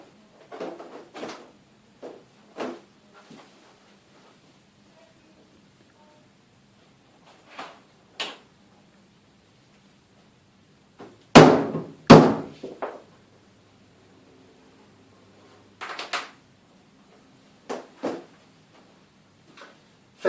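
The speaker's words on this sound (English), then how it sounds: "Clip the cover strips in to hold it in place, starting at the bottom." Plastic cover strips being clipped into a secondary glazing frame, heard as scattered sharp clicks and snaps with long quiet gaps between them, including two louder snaps close together near the middle.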